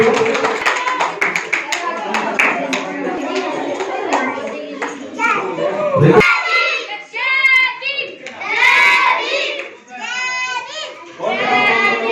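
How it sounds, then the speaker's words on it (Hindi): Villagers, including children, clap at a village celebration of Babasaheb Ambedkar's birth anniversary with sharp, fairly close rhythmic hand claps, alongside shouting and children's voices that break through in loud bursts. "ताली बजाएंगे तो"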